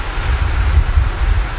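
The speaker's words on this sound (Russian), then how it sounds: "Очень сильно гуляет ветер." Strong wind with heavy rain roars steadily, buffeting the microphone with deep, gusty rumbling throughout.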